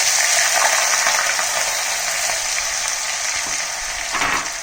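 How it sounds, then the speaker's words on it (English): Cumin seeds and onions sizzling loudly in hot oil for stuffed okra, a dense continuous hiss close up with a few faint stirring scrapes underneath, no voices. "Now oil is heated, so I am adding cumin seeds, then placing onions"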